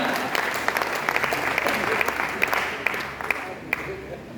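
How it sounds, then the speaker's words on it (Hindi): Loud, sustained applause from the audience at a poetry recital (kavi sammelan) at Bundelkhand University, Jhansi, dense clapping with sharp individual claps standing out, steady throughout. "तालियां बजेगा जोरदार।"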